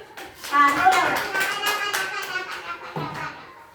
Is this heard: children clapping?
yes